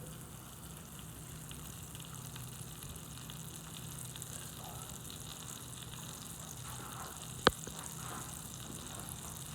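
Butter melting and sizzling in a pan used for chicken parm, a steady low hiss with soft crackles and one sharp click, close and quiet.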